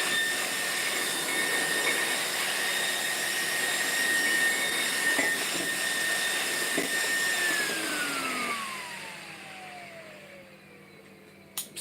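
Car cooling fans running at about 22000 rpm give a steady, loud whine with a high tonal hum for most of the stretch, then spin down near the end with a falling pitch and a small knock at the close.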